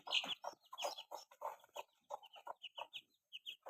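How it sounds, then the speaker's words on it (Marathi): A hen clucks repeatedly in short, choppy bursts, close by and fairly loud, with no talking, in a Konkan village. "ही ना सर्वात जास्त बोचरी कोंबडी आहे"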